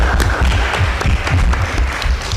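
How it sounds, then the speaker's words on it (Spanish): Dense, steady applause from a seminar audience on Dreamers and exiled US-citizen minors, loud and close, with many overlapping claps throughout the short burst. "Sí, un aplauso."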